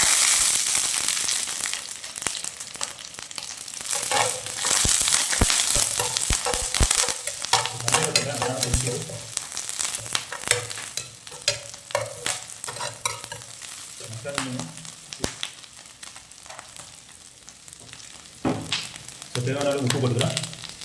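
Curry leaves frying in hot oil for a mutton rotti, a steady close sizzle with stirring and scraping strokes that keep going throughout, while a voice talks now and then.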